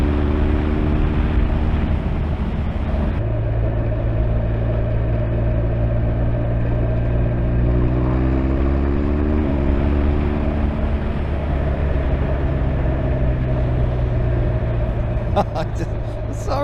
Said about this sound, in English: I just love how this bike accelerates.